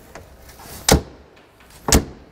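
A fire truck's compartment door is shut twice, two sharp, close thuds about a second apart over quiet background noise.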